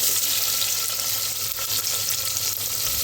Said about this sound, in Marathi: चला, आता आपण कांदा टाकूया तेलामध्ये.